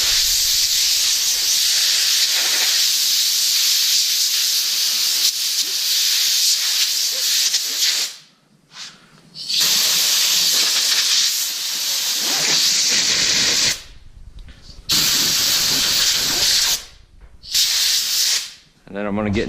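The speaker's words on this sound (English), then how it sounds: "I'm just going to grab the air hose" Compressed air blasts from an air hose onto the HST filter of a Kubota L4060 tractor, a loud close hiss in several long bursts separated by brief pauses.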